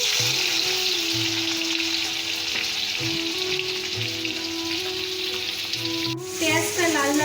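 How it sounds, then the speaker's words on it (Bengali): Chopped onion fries in hot oil with bay leaves, cinnamon, four cloves and a cardamom pod for a yogurt chicken curry, a steady close sizzle with stirring scrapes and a louder burst of crackling near the end. "চারটে লবঙ্গ ও একটা এলাচ দিয়ে দিচ্ছি কুচিয়ে রাখা পেঁয়াজ"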